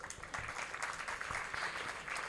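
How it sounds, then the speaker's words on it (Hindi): An audience at a religious discourse claps steadily, a dense, continuous patter of many hands at moderate distance. "देखो आगे से बहुत तालियां बज रही हैं अलग से"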